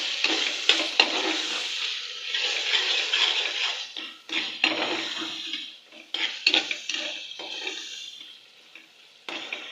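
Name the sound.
frying spices and tomato in a pan for chicken shalgam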